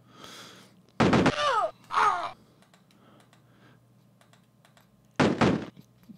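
Grenades explode against a hut in the retro video game Cannon Fodder: three short, sharp blasts, each followed by a falling squeal, with quiet gaps between them and no talking.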